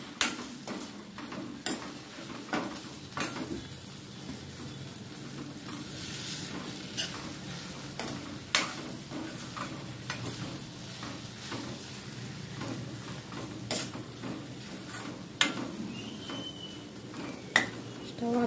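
Ivy gourd and onion masala stir-fried in a pan, a steady low sizzle broken by frequent scraping stirs and sharp clinks of a spatula on metal throughout, with no talking.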